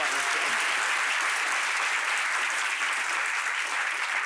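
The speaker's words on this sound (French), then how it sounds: "on l'applaudit très fort" Studio audience applauding on a talk show about religious guides, steady sustained clapping filling the whole moment evenly, with no voices over it.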